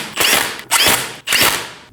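Lug nuts on a Volkswagen Passat wheel (2012–2022 model) are snugged down with a power tool in three short, loud, buzzing bursts, each about half a second long with brief gaps between.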